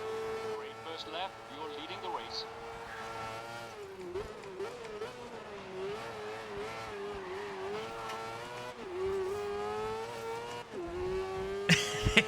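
A race car in the GRID video game drives hard with a steady, buzzing engine note that rises and dips through gear changes, with a burst of tire squeal near the end and a voice talking over it.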